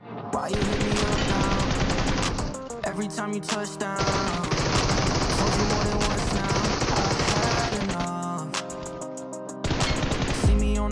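Rapid M4 assault-rifle bursts from a PUBG-style battle royale game ring out loud and close over a dense game mix, with sustained automatic fire stretches broken by short pauses.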